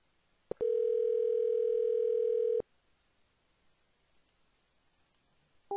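A telephone tone plays while a phone number is being called: a click, then one steady, loud hum lasting about two seconds that cuts off abruptly into quiet line hiss, with another click at the end.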